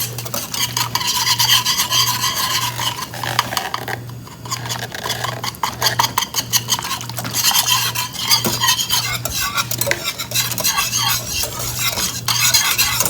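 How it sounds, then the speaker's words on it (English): Pectin being whisked into a freezer jam mixture, a fast rhythmic scraping and clicking of a whisk against the bowl that runs steadily throughout, with a low hum beneath. "Slowly add the pectin and whisk it so you don't get any lumps."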